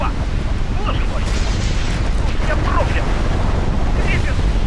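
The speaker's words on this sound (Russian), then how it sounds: "Нет, это ядерный взрыв." Roaring, rumbling wind-like aftermath of a nuclear blast in F.E.A.R. 2: Project Origin, a steady loud low rush with faint distant voices and cries over it.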